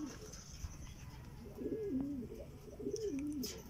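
Pigeon coos from a racing pigeon arriving at its loft during a derby race, two rolling cooing calls close by over steady outdoor background noise.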